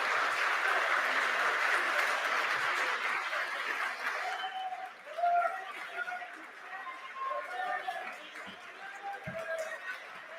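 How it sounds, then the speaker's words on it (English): Audience at the end of an abiogenesis science debate claps and cheers, dense applause that fades after a few seconds into murmuring chatter and scattered voices. "We don't know who's cheering for who"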